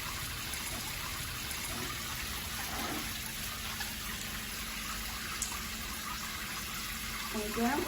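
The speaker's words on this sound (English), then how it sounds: "Instant outlet hot water, constant and stable flowing." Hot water flows steadily from a smart shower panel, a constant even hiss of spray with a slight change near the end and no talk.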